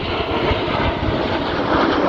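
Red Arrows jets roaring past during an air display at RAF Cosford, a loud, steady, broad engine rush that stays strong throughout with no voices over it.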